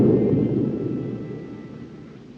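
Storm thunder from a 1930 film, one deep, low rumble that starts loud and slowly fades over about two seconds, heard alone with no talk.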